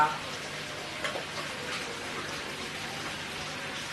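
Chicken pempek fries in hot oil over medium heat, a steady, faint crackling sizzle that hisses evenly throughout.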